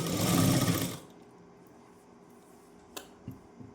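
A sewing machine stitching a saree edge runs in one short, loud whir lasting about a second, then stops, leaving quiet room tone with a few faint clicks.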